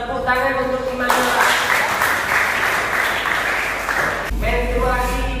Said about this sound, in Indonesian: Tepuk tangan untuk Imanul